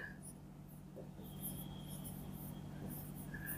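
Writing on a board during a physics lesson, heard as faint, intermittent high squeaks and strokes over a steady low room hum, with no clear speech.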